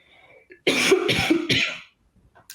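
A woman coughs up close, a few harsh, raspy bursts run together over about a second, like clearing the throat, then quiet.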